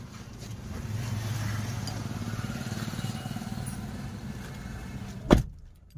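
A car's engine idles steadily nearby as the vehicle is turned around in a parking area near a temple in Solapur, a low continuous hum for several seconds before a sharp thump and sudden quiet.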